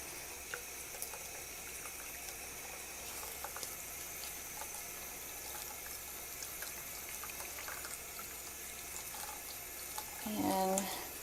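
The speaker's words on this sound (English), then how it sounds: "Okay, and then we're going to rinse those." Dentures are rinsed under a running tap, a faint, steady stream of water in a quiet room, with a brief louder splash near the end.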